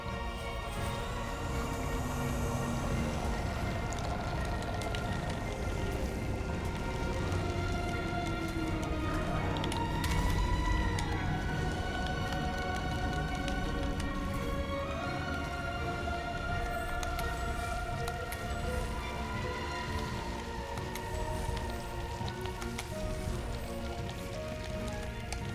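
Steady rain falling in the video game Grime, a constant hiss of drops beneath sustained, droning background music throughout.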